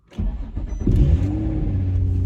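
An Infiniti G35 engine cranks and catches after a fuel pump replacement, rising in a short rev before settling into a steady, loud idle up close.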